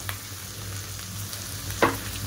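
Garlic and turmeric powder frying in hot oil for a tempering, a steady low sizzle running throughout with a brief sharper crackle near the end, heard alone without talk.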